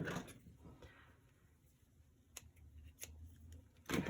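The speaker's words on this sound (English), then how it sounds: "I'm gonna cut a piece a little longer than what I need" Scissors snip through a piece of petal pink ribbon in a quiet room, a few sharp close cuts and rustles after a stretch of near silence.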